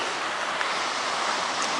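The flooded Wissahickon Creek in Flourtown, swollen far beyond its banks, rushes past as a loud, steady, broadband roar of churning water with no pauses.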